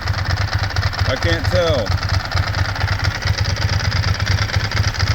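A 2002 Ducati ST4s motorcycle engine idles steadily up close, a continuous loud throbbing rumble with a clattering edge, while a person speaks briefly over it.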